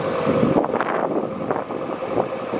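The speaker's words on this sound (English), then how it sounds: "the wind's on our side today, so we could get blown into that log again" Wind gusts buffet a narrowboat on the Thames, a steady roaring rush with microphone buffeting that swells and dips. It is loud and continuous, with no talk.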